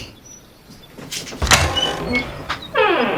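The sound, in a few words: door being opened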